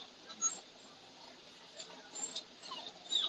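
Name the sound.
puppies whimpering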